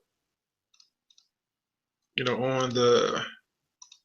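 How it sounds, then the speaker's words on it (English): A few quiet, isolated computer mouse clicks while selecting text, some in a quick pair, followed by a short stretch of someone speaking. "all I'm doing, guys, is clicking on each body of text so that way it shows up"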